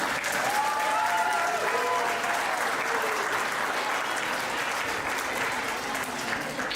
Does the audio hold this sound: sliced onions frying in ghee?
no